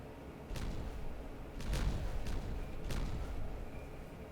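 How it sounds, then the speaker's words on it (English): A small set of explosions goes off in the beaver colony-building game Timberborn: several muffled booms and thuds, each with a short crackling burst, spread over a few seconds above a low steady background. "Another small set of explosions."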